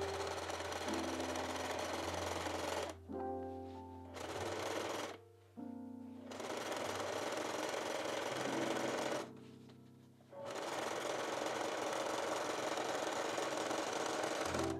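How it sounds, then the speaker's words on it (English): A sewing machine stitches down the rest of a makeup bag seam, its steady motor whir running in long continuous bursts with two or three short pauses between runs. "And now I'm just going to sew down the remainder of this seam."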